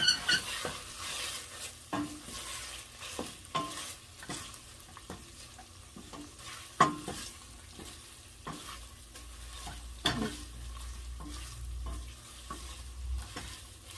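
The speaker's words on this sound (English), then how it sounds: "Now your tomato paste already melt with the oil, with the returnable spice or Asian spice." Tomato paste frying and being stirred in hot oil with Asian spices, a steady soft sizzle broken by repeated scraping stirs of the pan, close and alone with no talking.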